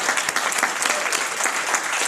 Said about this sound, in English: And if we get a round of applause for Dr. Sunderram and Dr. Ferreira.